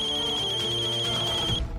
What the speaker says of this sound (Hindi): अभिनव का फोन फिर से बजा